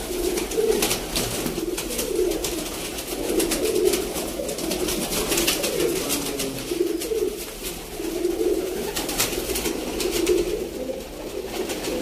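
A Teddy pigeon cooing steadily, a repeated low, throaty coo in rhythmic phrases, close and moderately loud, with no talking over it.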